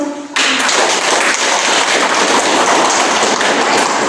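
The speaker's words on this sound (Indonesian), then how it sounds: "Tepuk tangan dulu." A classroom of students bursts into sustained applause, dense and loud clapping starting abruptly after a brief quiet moment and continuing steadily to the end.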